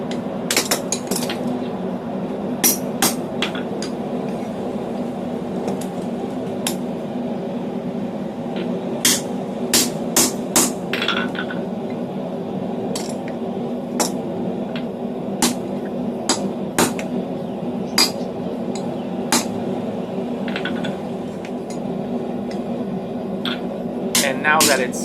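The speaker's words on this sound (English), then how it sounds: "I just want to slice this open so I can save as much material as possible" A hammer strikes a slitter to split hot steel for blacksmith tongs: irregular sharp metallic blows, some in quick clusters, ring out over a steady low drone.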